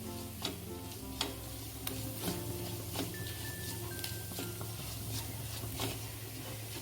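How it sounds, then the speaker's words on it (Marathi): Curry leaves and half a teaspoon of turmeric sautéed in a pan of oil make a gentle, continuous sizzle with occasional sharp clicks and taps as the spoon stirs, heard close and without speech. "थोडासा कढीपत्ता टाकलाय परतून घेऊ छान अर्धा टीस्पून हळद टाकते हळदही परतून घेऊ आपण"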